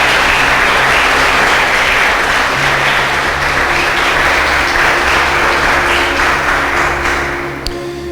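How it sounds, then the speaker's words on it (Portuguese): A church congregation applauding for Jesus during a sermon, a loud sustained wall of clapping from many hands that holds steady for several seconds before easing off at the end, with an organ or keyboard chord droning underneath. "você vai dar a maior salva de palmas possível para Jesus"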